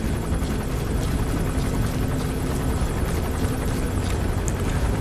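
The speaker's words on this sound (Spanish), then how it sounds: "Y aquí está el maldito helicóptero." Helicopter in Metal Gear Solid 5: The Phantom Pain, a loud continuous rotor roar with dense, steady turbine noise, constant in level and close throughout.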